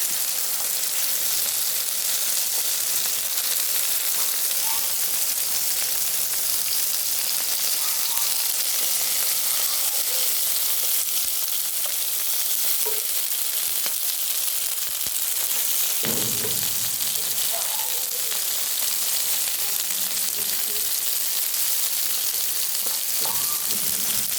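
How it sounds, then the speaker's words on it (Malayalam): Tomato pieces frying in a pan as they are turned over, with a steady close sizzle and hiss throughout and a few soft stirring scrapes along the way. "അപ്പോൾ ഒന്ന് മൂത്ത് വരട്ടെ. നമുക്ക് തക്കാളിക്ക് തിരിച്ചിടാം."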